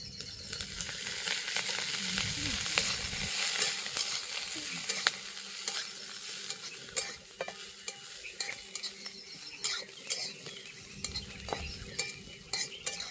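Cluster beans roast in oil in a pan outdoors beside a farm field, giving a continuous crackling sizzle with frequent clicks and scrapes of a utensil turning them, loud and close throughout.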